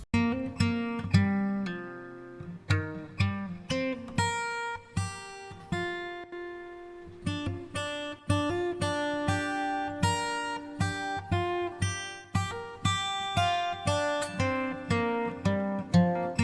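A comped guitar take built in FL Studio for a country rap beat plays alone, with plucked notes and chords in a steady, stop-start pattern, close and fairly quiet.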